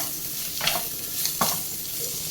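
Chicken fried rice with seasoning being stirred in a hot pan, a steady frying sizzle broken by a few sharp scraping strokes of the spatula, close and moderately loud, no talking.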